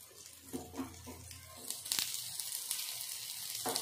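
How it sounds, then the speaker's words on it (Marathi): Alu vadi frying in a pan, a soft continuous sizzle with small crackles and bursts, quiet and close. "हे छान फ्राय करून घेऊया."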